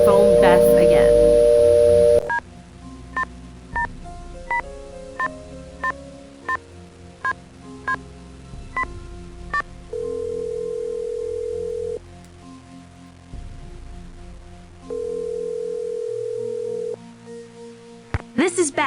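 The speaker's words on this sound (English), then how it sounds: "Let's go ahead and try to phone Bess again." In a Nancy Drew mystery game, a phone is dialed with a rapid series of short electronic keypad tones, followed by two long, steady ringback tones separated by a pause, clean and synthetic.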